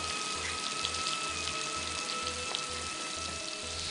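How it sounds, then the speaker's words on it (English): Shrimp dusted in corn starch fry in the same oil used for tostones, giving a steady bright sizzle and crackle that continues without pause, with no talk. "in the same oil that we're frying the tostones, we could just go ahead and fry these shrimp"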